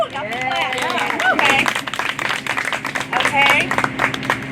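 Audience clapping and cheering at a congressional campaign rally, a dense wash of applause with shouts layered over it, loud and close throughout.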